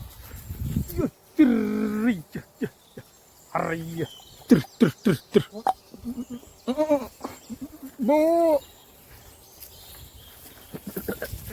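Goats bleat in drawn-out, wavering cries, loud and near, with a few rapid clipped calls between them.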